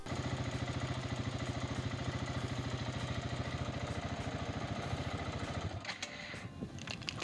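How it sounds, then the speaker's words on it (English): KTM 690 single-cylinder motorcycle engine idling in neutral, a steady, rapid low thumping pulse held evenly for several seconds, fairly faint, before giving way to some handling clatter near the end. "quite simply just turn your bike on and leave it be for no less than 15 minutes."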